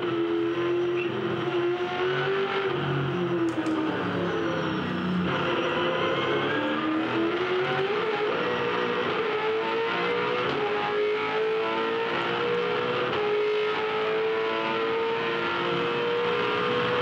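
Onboard a 2007 V8 Supercar racing in the Sandown 500, a loud, steady V8 engine roar holds high revs throughout, pitch climbing and dipping with gear changes and throttle, with wind and mechanical rattle and no talk.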